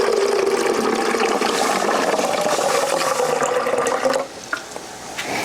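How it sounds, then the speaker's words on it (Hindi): Water pouring into a coffee machine's reservoir, a loud, close, continuous gushing splash that stops abruptly near the end, leaving faint drips and quiet. "ये जनाब मैं पानी पा दूँ इसके अंदर काफ़ी मशीन के अंदर"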